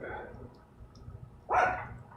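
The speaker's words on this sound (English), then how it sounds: "The dog's going off now." A dog barks outdoors, one sharp bark standing out near the end against faint background sound and quiet murmuring.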